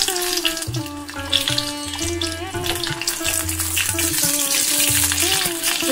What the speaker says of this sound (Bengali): কালো জিরে ফোড়ন দিয়ে দিয়েছি, কুমড়ো চিংড়িটা রান্না করবো। অল্প করে একটুখানি পেঁয়াজ দিয়ে দিলাম